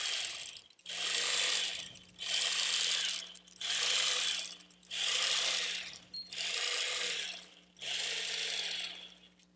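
A sewing machine stitches through a basted quilt in six bursts of rapid whirring, each running a second or more with short pauses between, close and steady, with no talking.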